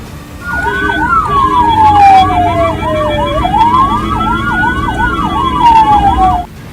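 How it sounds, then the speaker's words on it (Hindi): A loud ambulance siren wails and yelps in fast rising-and-falling cycles, close by and continuous, over road noise on a road in Rajasthan. "एम्बुलेंस ने सायरन और हॉर्न लगातार बजाकर रास्ता मांगा"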